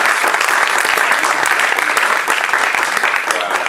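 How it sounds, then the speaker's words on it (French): Loud, dense applause from a church congregation clapping for their pastor, steady and sustained throughout with no break, close and filling the room. "On acclame pour votre pasteur."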